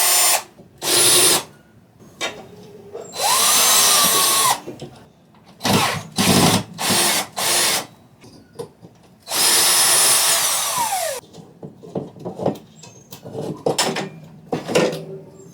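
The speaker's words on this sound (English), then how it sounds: "Girls with power tools." A power drill works on a home wall in repeated close, loud whirring bursts, some short and some running a couple of seconds, with quieter handling clatter in the gaps between.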